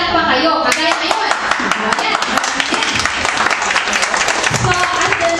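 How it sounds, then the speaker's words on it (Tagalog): A crowd claps loudly and continuously at an 80th birthday celebration, a dense, close burst of applause lasting the whole moment, with a voice talking over it. "papalakpak kayo. Kagaya ngayon."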